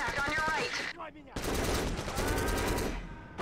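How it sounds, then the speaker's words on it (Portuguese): Rapid machine-gun bursts fire in the PS2 game Black, loud dense volleys that break off briefly and then resume in a long continuous stream. "Ah, parceiro atirou nele, né?"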